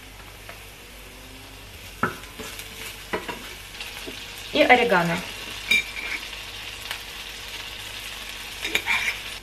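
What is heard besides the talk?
garlic frying in a pan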